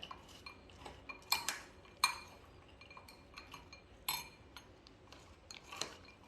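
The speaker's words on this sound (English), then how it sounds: "And then you have to mix this well." A spoon stirs dish ingredients with lemon juice in a bowl, making irregular clinks and scrapes against the bowl that are soft and close in a quiet room, with no talking.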